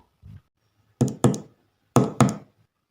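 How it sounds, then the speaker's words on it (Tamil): Two pairs of firm knocks on a door, each a quick double rap, land close and loud after a soft thump, with silence between them. "கதவை தட்டுவோம்."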